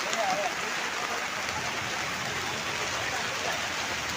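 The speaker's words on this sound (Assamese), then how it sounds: "এইফালে বৰষুণটো এৰি দিয়া নাই" Heavy rain pours down over an outdoor market in a steady, dense hiss that runs unbroken throughout, with a faint voice briefly audible beneath it.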